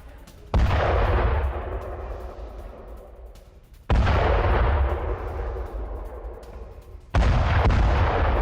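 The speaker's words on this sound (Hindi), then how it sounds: "हिजबुल्लाह के ठिकानों पर एयर स्ट्राइक।" Air strikes on Hezbollah positions in the Al Jabal Al Khiyam area of southern Lebanon: three heavy, distant booms, each followed by a long rolling rumble that fades before the next blast.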